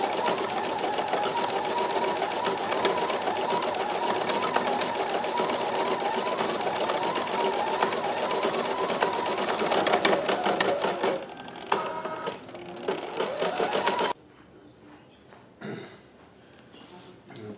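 An embroidery machine stitches out a freestanding flower design in a steady, rapid mechanical patter that runs loud and continuous, then stops abruptly near the end, leaving quieter clicks and handling noises.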